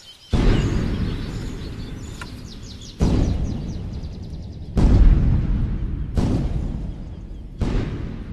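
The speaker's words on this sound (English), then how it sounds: "dynamite is detonated in the nearby quarry." Several loud, booming dynamite blasts go off one after another in a nearby quarry, each a sharp crack followed by a long rumbling decay, with birds chirping faintly in between.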